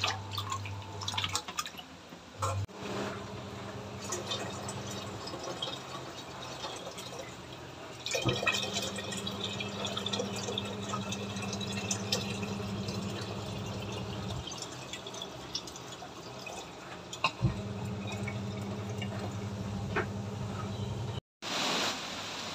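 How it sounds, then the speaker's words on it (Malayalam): Hot water pours steadily onto tamarind in a bowl for fish curry, a close, continuous liquid stream with brief pauses and a soft trickle. "അതിലേക്ക് ഇച്ചിരി നല്ല ചൂടുവെള്ളം ഒഴിച്ച് വെക്കാം"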